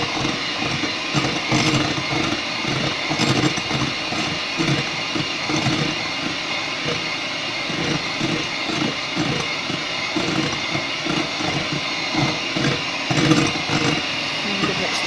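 Electric mixer beating egg whites toward stiff peaks for a chocolate pie, a steady motor whir with rhythmic pulsing as the beaters churn the bowl, while a person talks over it.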